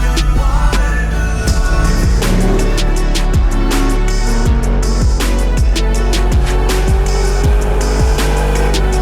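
A car pulling away and driving off, a loud close engine with repeated rising revs through the gears and a steady rumble throughout.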